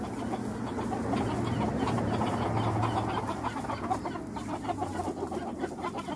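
Hens cluck and murmur steadily inside a backyard coop in winter, a close, continuous mix of soft clucks and calls from several birds, no talking.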